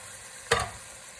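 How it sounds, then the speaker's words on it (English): A spoon stirs beef keema curry in a pan just after tomatoes and water go in, giving one short, close wet scrape and sizzle against a low background hiss. "And stir and let that simmer."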